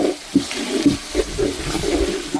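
Ground fish curry masala has river water from the Amaravathi poured into it at an outdoor cooking spot by the Amaravathi dam, giving a soft, close, steady splashing trickle with a few brief louder splashes.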